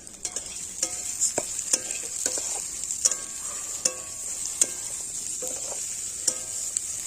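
Fried onion and lentils sizzle steadily in a pan, broken by repeated clattering scrapes of a spoon stirring close by, with no voices.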